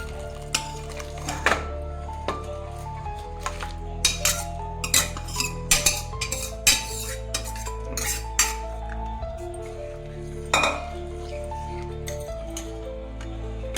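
Metal spoon scraping and clinking against a pot of tamarind sambar in irregular bursts, over a steady low hum, with no talking.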